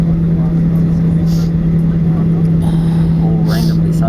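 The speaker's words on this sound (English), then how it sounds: "We're about to take off." Inside an airliner taking off from Christchurch Airport, the engines give a loud, steady, unbroken drone throughout, with people talking in the cabin.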